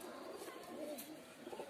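Pigeon cooing softly in a steady low murmur, faint and close, from a fancy Andhra-line pigeon with cross-cut wings, with quiet background noise.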